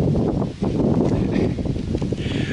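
Wind blows hard during a solo canoe trip in the Boundary Waters, a loud, steady buffeting rush with gusty low rumble close to the microphone.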